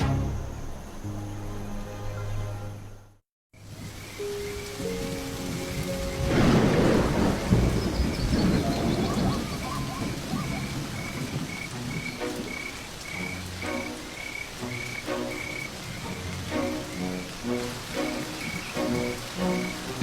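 Steady rain pours during a thunderstorm as loud thunder rumbles and rolls. Frogs croak in the background throughout.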